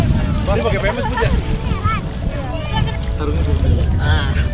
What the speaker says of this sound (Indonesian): Sarungnya Habib sarungnya kena angin.